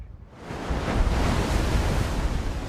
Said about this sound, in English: But Peterhead is in the grip of a storm.